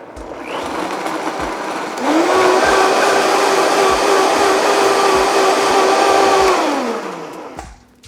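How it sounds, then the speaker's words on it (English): A Vitamix blender purees sea moss into a smooth paste, starting with a lower whir for about two seconds before ramping up to a loud, steady high-speed roar that holds for several seconds and then winds down. "I'm using my Vitamix, so I'm gonna start on low and then increase to high."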